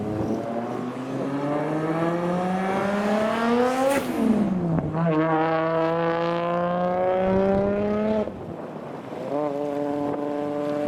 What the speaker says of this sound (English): next to leave is an R33. I think this one's got 650 horsepower.